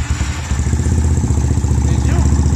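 Yamaha Fazer 250 motorcycle with fuel injection and a 4 mm oversized Titan piston, its engine running at a loud, steady close-range idle with a rapid even thump, a voice talking over it.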